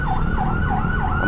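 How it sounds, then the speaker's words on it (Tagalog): A loud ambulance siren wails close by, its pitch rising and falling in a steady repeating sweep over a low road rumble. "Ambulansya."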